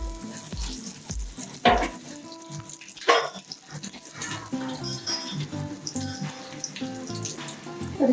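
Curry leaves and spices for masala kachori hit hot oil with sharp crackling sizzles, followed by continuous frying sputter and clinks of a utensil against the pan, close and moderately loud.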